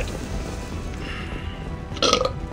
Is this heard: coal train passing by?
no